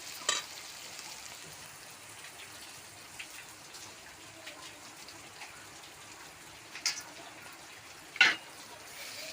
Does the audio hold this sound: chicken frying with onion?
yes